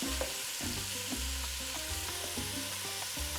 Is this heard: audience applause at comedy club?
no